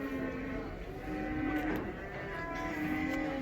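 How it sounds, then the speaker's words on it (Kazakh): White-headed cows at the Karabulak livestock market moo in long, low, droning calls that overlap for several seconds, near and steady over a constant market background hum. "Ақбас сиырлар."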